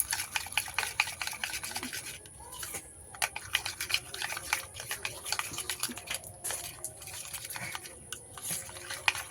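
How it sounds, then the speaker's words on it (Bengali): A homemade skin remedy paste is worked by hand in a bowl, making close, rhythmic wet squelching and rubbing strokes that repeat steadily with brief pauses. "এবার হাতে ধরে ভালো করে মেশাবো"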